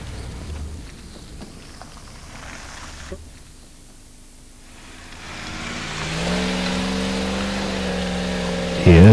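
4x4 vehicle driving up and over a wet slope in third gear at higher approach speed, a quieter start giving way to a loud, rising engine roar near the end, with talk over the early part.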